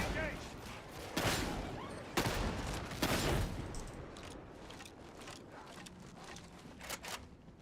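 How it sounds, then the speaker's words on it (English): Shotgun fire in the video game Warhammer 40,000: Darktide: several heavy, spaced blasts ring out early, then lighter rapid shots and mechanical clatter in a noisy fight, with speech mixed in. "Shotgun's doing good work though."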